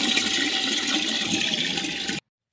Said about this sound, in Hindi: तो आज पानी भरने में लग गए हैं